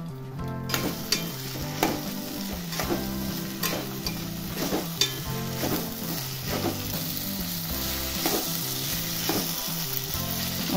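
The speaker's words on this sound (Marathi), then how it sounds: "वांग बटाटा का लगेच शिजतो, त्यामुळे ह्याला तेलात थोडं मी परतून घेणार आहे" Brinjal and potato pieces frying in hot oil for a mixed vegetable dish, a steady, dense sizzle with regular stirring scrapes and clinks recurring throughout at close range.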